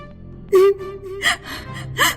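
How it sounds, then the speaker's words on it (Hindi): A girl crying from inside a radio as a horror story sound effect: a sharp gasp followed by quivering, whimpering sobs and a second breathy gasp, close and fairly loud over a low hum. "रेडियो के अंदर से किसी लड़की के रोने की आवाज आ रही थी।"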